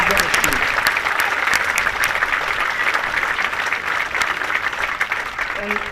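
Sustained applause from a Memorial Day ceremony audience at a North Dakota veterans cemetery, many hands clapping steadily for several seconds, with a voice briefly audible near the end.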